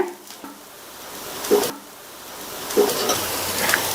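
A mini rava uttapam frying in oil on a pan after being flipped, a steady soft sizzle close by with a couple of brief clinks from the utensil, no voices.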